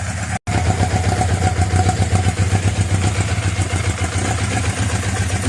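A Yamaha FZ750 motorcycle idles from a cold start without choke, a steady close rumble with an even, slightly clattery pulse that holds throughout after a brief dropout at the start.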